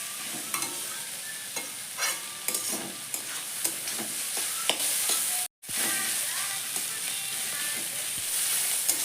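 Chopped kushi fries in a pan with eggs close by, giving a constant sizzle broken by repeated scraping and stirring clatters and one brief silent gap midway.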